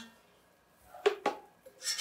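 A utensil scrapes cooked onion and garlic out of a pan into a blender while making red chile sauce from dried pods: two quick, close metallic scrapes, then a brief softer rasp.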